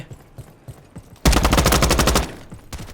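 A burst of rapid automatic gunfire in a Roblox shooting game, loud and close, about a second of evenly spaced shots after quieter scattered sounds, followed by a few isolated pops.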